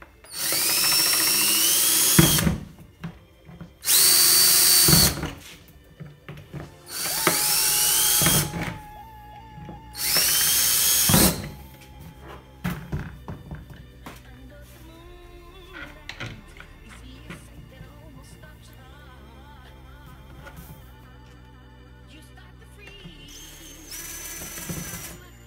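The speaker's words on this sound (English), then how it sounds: "Right now we're going to drill these little holes here." A power drill whines in four loud bursts as it bores small holes while building a fog chiller, separated by pauses, then quieter clattering and handling noises follow.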